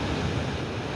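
A brief, loud wash of ocean surf on a beach, dense rushing water noise mixed with low wind rumble, steady for the whole moment.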